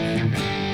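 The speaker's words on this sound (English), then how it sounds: "Distortion 1 sounds kind of light, like, you know," An electric guitar plays through the light Distortion 1 setting of a Flatsons KMF-1 multi-effect pedal, giving a brief sustained chord with a mild, gritty edge.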